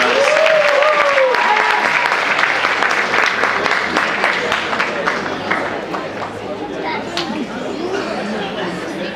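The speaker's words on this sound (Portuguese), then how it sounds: "Aê, palmas!" A large crowd applauds at a dance awards ceremony, with steady dense clapping mixed with cheers and a few whoops; the clapping slowly thins out over about nine seconds as voices carry on underneath.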